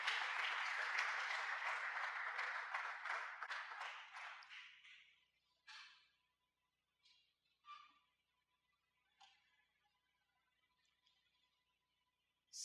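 Church congregation applauding during a Sunday thanksgiving service, a dense burst of clapping that thins out over about five seconds, followed by a few scattered isolated claps in a quiet room.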